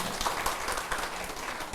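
Applause from an audience at a Buddhist temple question-and-answer Dharma talk in Busan, a dense steady patter of many hands at moderate distance, filling the whole moment without a break.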